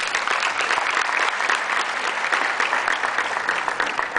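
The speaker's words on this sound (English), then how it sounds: "Give them a round of applause, please." A crowd claps steadily and loudly for several seconds, dense applause with no voices over it.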